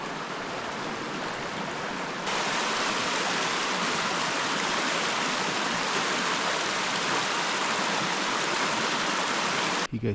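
A mountain stream in the Washington backcountry rushes steadily, a dense, constant wash of flowing water that jumps louder after a couple of seconds and holds without a break.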